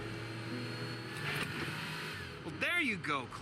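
An old car's engine being shifted into third gear in The Walking Dead: A New Frontier game, a steady droning hum at moderate level, with a voice talking over the last part.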